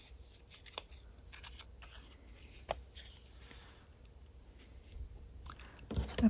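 Scissors snip through paper, trimming a paper heart shape for handmade faux cabochons: a few quiet, scattered cuts with soft rustling between them, close up in a hushed room.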